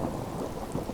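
Steady rain falls beneath a great glass domed ceiling in a Skyrim-style setting, with low thunder rumbling continuously underneath; the wash of rain and storm stays even and fairly close throughout, with no voices.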